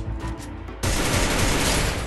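Gunfire from the Free Fire mobile battle game erupts after a quieter opening moment into a loud, sustained automatic burst that continues to the end.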